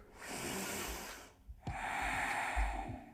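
A person breathing during a yoga class for the hips: a long, close, airy breath, a brief pause, then another drawn breath with a slight nasal snort, no talk.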